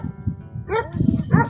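A small dog in an outdoor seaside setting in Djerba, with camels and a horse nearby, gives a few short yips and barks over a steady low background rumble, moderately close.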